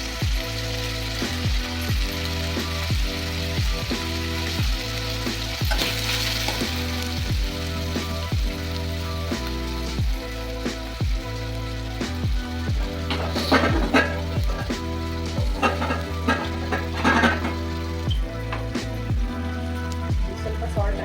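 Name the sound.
peas and curry leaves sautéing in a pan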